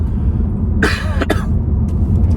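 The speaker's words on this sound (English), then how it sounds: "I'm not sick. I just got a bad cough." Two quick, harsh coughs from a man with a bad cough, a second apart, close and loud over a steady low rumble like a running car.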